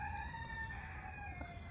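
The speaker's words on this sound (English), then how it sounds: "I definitely have a rooster." A young backyard rooster crows in a short, drawn-out call with a wavering tone over a low background rumble, fairly close and with no voices.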